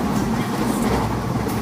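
A Jan Shatabdi passenger train runs with a steady, dense rumble and rushing noise, loud and continuous over a very short stretch.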